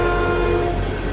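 A train from the video game Soulstorm rumbles along loudly and continuously, with a dense low roar and steady tonal whine running through the whole short stretch, no voices present.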